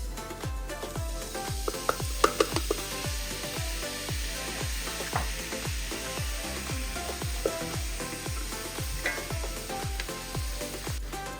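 Vegetables dropped into hot olive oil in a pan sizzle steadily, with a rhythmic series of low thumps and scraping stirs repeating throughout, fairly close and without voices.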